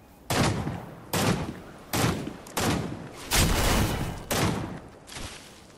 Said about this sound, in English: I've got something shooting at me